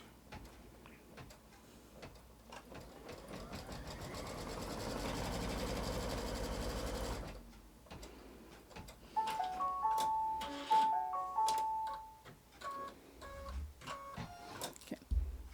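An embroidery machine stitches fabric down in the hoop for an in-the-hoop block, a steady mechanical whirring and ticking run that grows louder midway, then gives way to clattering handling noises and clicks.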